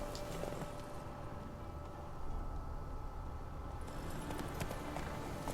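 Roach, the horse in The Witcher 3, clip-clops steadily under a dense, constant wash of ambient game sound, with no talk.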